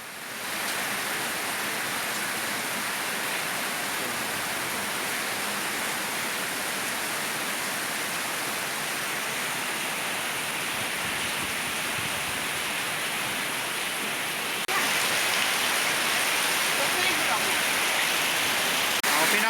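Steady dense rain hiss pours down without a break, broadband and close, growing a little louder and brighter toward the end, with no voices heard.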